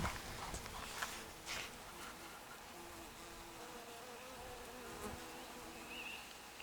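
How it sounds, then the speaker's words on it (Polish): Bees and bumblebees buzz steadily around flowers in an unmown garden, a continuous close insect drone with a few brief louder passes, alone without talk. "ale pszczoły, trzmiele, no i tyle znam"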